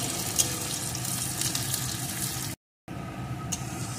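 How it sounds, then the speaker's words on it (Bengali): Chopped onion sizzles in hot mustard oil, a dense steady hiss of frying that fills the clip, broken by one short silent gap, with a couple of faint clinks on top and no voices. "পেঁয়াজটা আমি একটু লাল লাল করে ভেজে নেব"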